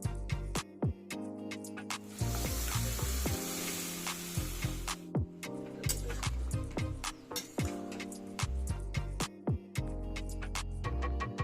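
Boiled peas for vegetarian ghugni hit a hot wok, raising a loud sizzling hiss for a few seconds among metal ladle clinks, all under steady background music.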